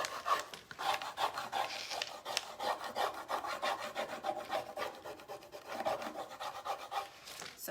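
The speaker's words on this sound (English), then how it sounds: "start rubbing the transfer so it goes onto the wood" A finger rubs a transfer onto wood for a custom farm sign, producing rapid, rhythmic, scratchy back-and-forth strokes, close and continuous with no talking.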